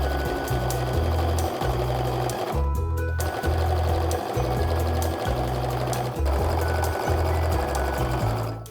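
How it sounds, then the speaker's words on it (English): A sewing machine strip-pieces fat quarters of fabric in quick, rhythmic bursts of stitching, close and loud, with short pauses between runs as the fabric is repositioned. "I'm just going to strip piece these together"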